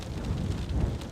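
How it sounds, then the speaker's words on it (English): Steady rain and gusting wind on an Icelandic morning at a campsite, a dense continuous roar with low rumbling buffets, close and fairly loud with no voices. "Wind and rain."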